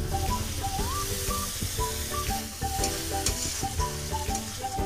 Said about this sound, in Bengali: এখানে গরম জল করা আছে, একটু হালকা করে দিয়ে দেবো যাতে মশলাটা না পুড়ে যায়।